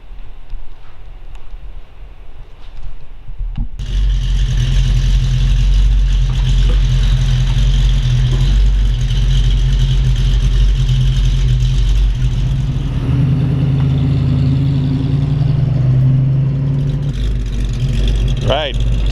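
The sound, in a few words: 1932 Ford Model 18 hot rod engine running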